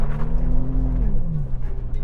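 2023 Toyota 4Runner TRD Pro driving up a snowy hill off-road, its engine droning loud and close in a brief strained pull with a slight pitch dip.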